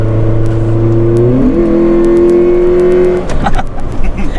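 A stock 1999 Honda Integra with nearly 200,000 miles drives past, its engine note climbing steadily through the revs and then fading as it moves away, loud and fairly close.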